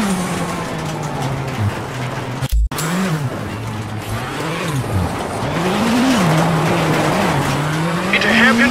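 Rally car in WRC 8 braking hard into a hairpin, engine note swooping up and down loudly with tire squeal and skidding, a brief cut near the middle, continuous close engine roar throughout.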